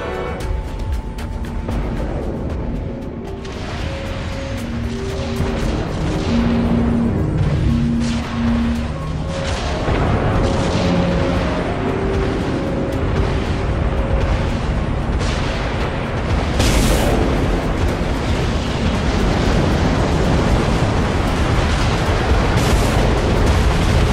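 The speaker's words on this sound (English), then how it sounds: "All silos, launch missiles." Missiles launched from silos in the video game Dreadnought set off a long run of deep booms and rumbling explosions. The blasts overlap loudly and steadily above a humming tonal backdrop, with sharper bursts scattered throughout.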